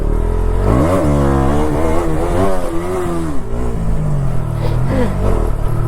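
A KTM Duke 200 motorcycle engine revs hard and close, pitch sweeping up and down through repeated throttle blips as the rider launches into a wheelie, loud and continuous throughout.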